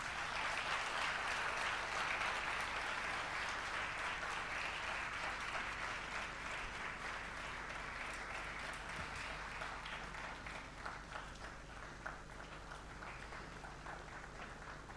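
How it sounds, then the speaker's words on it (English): An audience at a graduation and convocation ceremony gives sustained applause, with many hands clapping in a dense, steady wash that tapers slightly near the end. "Can we have a huge round of applause from the audience,"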